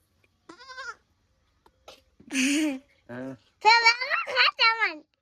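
A male goat bleats several times in quick wavering cries, close and clear, with a voice mixed in between the calls.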